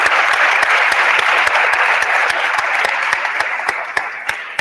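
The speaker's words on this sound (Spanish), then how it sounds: "Un aplauso." Dense audience applause fills a business meeting about the sale of a production unit, loud and even, with a regular rhythm of sharper claps running through it.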